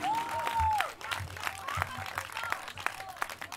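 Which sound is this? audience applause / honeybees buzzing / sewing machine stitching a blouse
audience applause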